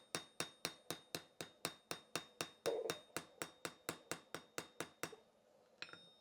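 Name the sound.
hammering pins over on a razor handle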